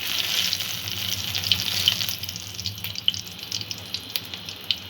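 Whole spices and a dried chili fry in hot mustard oil in a kadai for a fish curry, giving a loud, steady crackling sizzle close up with sharp spits on top.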